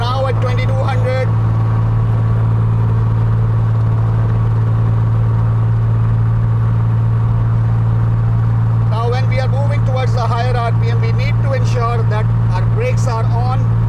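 A light aircraft engine runs up to about 2200 RPM with parking brakes set, giving a steady, loud droning hum throughout while someone talks over it near the start and end.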